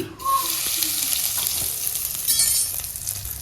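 Asafoetida hitting hot white cooking oil in a kadai gives a steady, loud broadband sizzle that runs the whole time, with a few faint clinks near the start.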